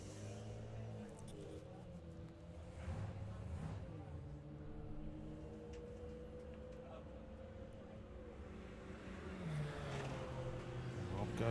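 A blue 23-year-old Audi S6 makes a drag racing run at Bug Jam, its engine roaring steadily over a sustained pull, heard from trackside at moderate distance with faint talk around.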